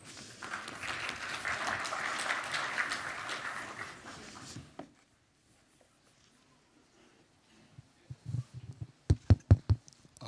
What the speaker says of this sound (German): Bitte einen Applaus